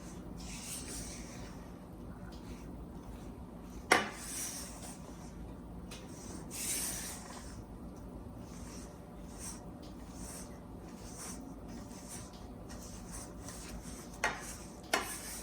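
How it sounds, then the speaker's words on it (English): Buttermilk drop biscuit batter is gently stirred in a bowl, with soft, quiet scraping and rubbing strokes, a few sharper knocks of the spoon against the bowl, and no talking. "So I'm just going to stir it gently."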